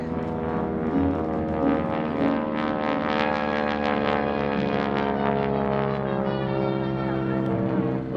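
A North American SNJ warbird trainer performs at an air show, its radial engine droning steadily and loudly for the whole stretch with a rich harmonic hum, close and continuous, with no talk over it.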